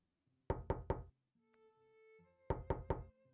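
Knocking on a door in two quick bursts of three sharp raps each, separated by a brief pause with a faint tone, close and clear with no talking.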